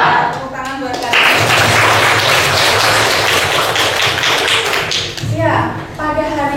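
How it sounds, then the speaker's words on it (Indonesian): Classroom students clapping during an Indonesian language lesson on poetry, a loud burst of dense applause after a teacher's speaking voice, fading back into her voice at the end. "Tepuk tangan buat kalian."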